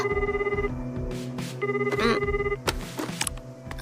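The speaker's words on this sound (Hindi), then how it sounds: "तुम जल्दी फोन क्यों नहीं उठाते फुशिगुरो?" A telephone rings in an anime episode of Jujutsu Kaisen, two bursts of a trilling electronic bell separated by a pause, loud and close, followed by clunks and shuffling sounds.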